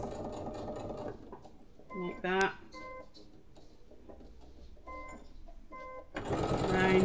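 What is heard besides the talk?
sewing machine top stitching a snap pouch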